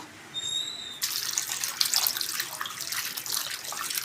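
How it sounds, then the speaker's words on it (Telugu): Food being washed under a running tap in plain water, a soft start giving way to a steady, close splashing rush of water that fills the space, with no voices. "మామూలు నీళ్ళతో కడుగుతున్నాను"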